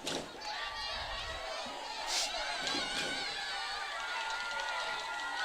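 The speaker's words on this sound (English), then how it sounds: "You can hear the crowd get louder." Crowd noise at a varsity high school football game between Santa Clara and Los Altos, a steady roar of many voices with scattered shouts that swells slightly as the play develops, continuous throughout.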